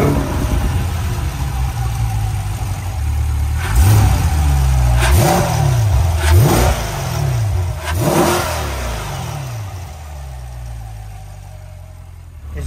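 A 2022 Chevrolet Corvette C8 Stingray Z51, a mid-engine car, idles with a steady exhaust rumble, then gives four sharp, loud revs in quick succession before settling back to idle.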